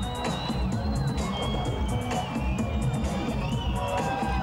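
A crowd cheers at a motorsport demonstration with rally driver Jean Ragnotti in Renault Megane Trophy and Clio RS cars, a steady loud roar of cheering and whoops with babbling voices throughout.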